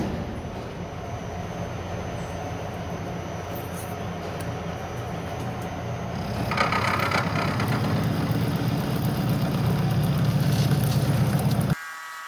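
A K&T 2D milling machine takes heavy cuts in 304 stainless steel, a steady loud mechanical drone and grinding rumble that grows heavier and louder partway through before dropping off abruptly near the end.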